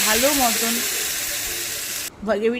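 Potato curry gravy bubbles in a pan with a steady, loud hiss and simmer that runs throughout, while a person talks over it.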